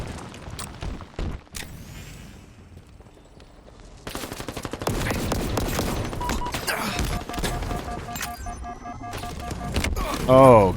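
A grenade goes off in Halo Infinite amid a loud stretch of rapid automatic gunfire and explosions, with a sharp burst near the end; a voice talks over the chaotic combat.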